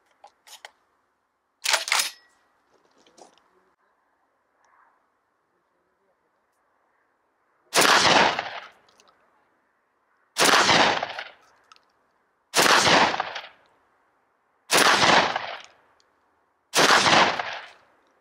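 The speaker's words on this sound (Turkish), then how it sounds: "Süper Slug'la 25 metrede birkaç atış denemesi." A Serengeti Legion 120 shotgun fires Super Slug rounds at 25 metres outdoors, five loud, sharp blasts at an even pace a couple of seconds apart, each with a short decay, after a few fainter clicks and handling noises.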